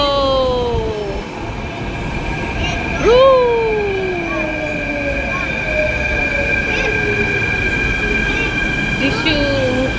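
Mumbai metro train arriving at Ghatkopar station, loud rumbling with squealing wheels and tonal brake and motor whines sliding down in pitch, a steady electric hum throughout, and people talking over it.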